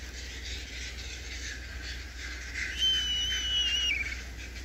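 A kite, a bird of prey, gives a single thin, drawn-out whistling call that slides downward, moderately distant over a steady background hiss.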